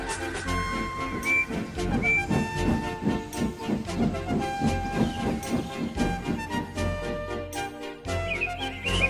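Toy-style steam locomotive pulling a string of hay wagons along a narrow rural railway, with steady rhythmic chuffing, hissing steam and a brief whistle over continuous music-like tonal layers throughout.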